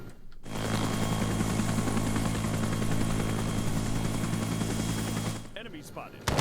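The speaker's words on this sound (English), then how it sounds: "It's another enemy helicopter." Enemy helicopter flying in Arma 3 with the Prairie Fire Vietnam mod, a steady loud rotor drone with dense chopping texture holding for about five seconds before cutting off.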